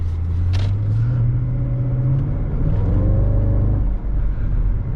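A supercharged Mercedes AMG E55 Kompressor engine rumbles loud and close, its pitch climbing as it accelerates hard, then easing briefly before pulling again.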